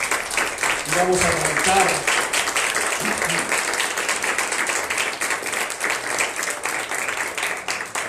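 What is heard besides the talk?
congregation applauding in church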